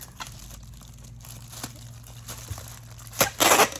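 A small plastic Ziploc bag crinkles while necklaces are packed into it, with light scattered rustles early on and a louder burst of crinkling near the end.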